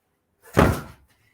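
A single heavy door slams shut with one dull, booming thud that decays quickly, close and loud against otherwise quiet surroundings while rain pours outside.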